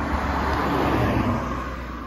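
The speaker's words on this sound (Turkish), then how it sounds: "Aha, araba geliyor." A car approaching along a quiet street, a steady broadband engine and road rumble that swells slightly then eases, close and moderately loud with no talk.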